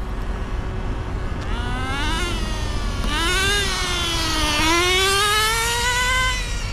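A Traxxas Rustler 2.5 nitro RC car engine revs hard and close, its high buzzing whine climbing in pitch in repeated surges with throttle blips, loud and steady throughout.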